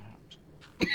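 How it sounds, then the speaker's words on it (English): A single short cough lands close on a microphone after a moment of quiet room tone, abrupt and fairly loud against the near silence. "cough on the mic."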